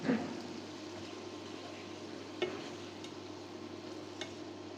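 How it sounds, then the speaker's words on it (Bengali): Ground spice paste of ginger, garlic, cumin and onion frying in a pan for a rui fish curry, a soft continuous sizzle with occasional scrapes of stirring. "একটু সময় নিয়ে ভালোভাবে মশলাটা ভুনে নিলাম।"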